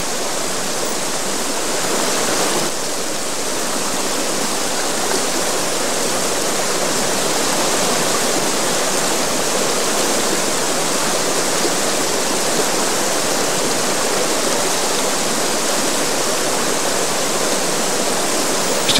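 River water rushes steadily beneath an old single-arch stone bridge near a former watermill site, a dense, even roar of flowing water close by with no voices.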